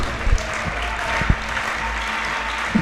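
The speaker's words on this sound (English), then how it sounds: "Adding some claps here" A watching crowd at a competition claps to urge on a contestant before his final attempt, a loose, steady patter of applause with a few louder thumps, heard without talking.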